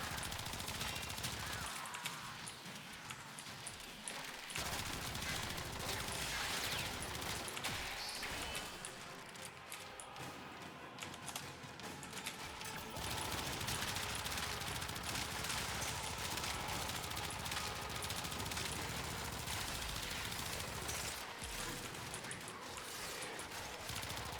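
Kuva Twin Stubbas machine pistols fire in the video game Warframe, dense rapid automatic bursts with brief gaps, mixed with game effects and a voice speaking over the shooting.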